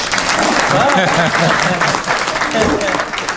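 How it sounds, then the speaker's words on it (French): Loud crowd applause for the fathers at a community event in Valenton, with dense clapping heard close up while voices talk and call out over it. "Applaudissez pour les papas"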